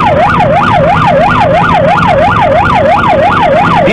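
Ambulance siren responding to a road accident where an SUV struck a motorcycle at the Ortigas Avenue and C5 Road junction in Pasig City. The siren wails loudly and steadily in quick repeating rises and falls over road noise.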